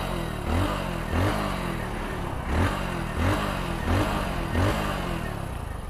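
Engine of a Hero Splendor BS6 motorcycle idling close by: a low, even chug with regular pulses roughly every half second, steady and unaccompanied by voices.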